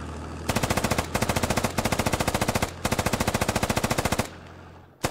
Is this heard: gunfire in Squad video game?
yes